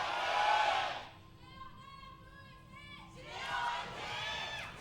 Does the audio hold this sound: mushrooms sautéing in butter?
no